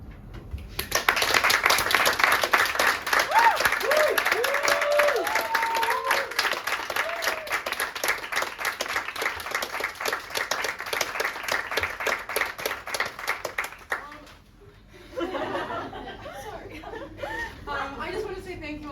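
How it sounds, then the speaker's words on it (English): At the close of a stage play, the audience breaks into sustained applause mixed with chuckles and laughter for about thirteen seconds, then after a short lull a voice begins speaking over lingering noise. "finally, applause"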